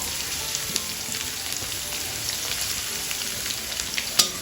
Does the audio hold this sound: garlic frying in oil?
yes